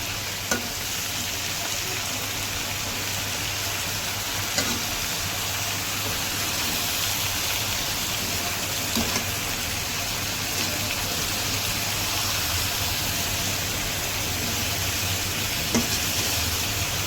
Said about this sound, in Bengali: আমি এখন নাড়াচাড়া করব মিষ্টি কুমড়াটা।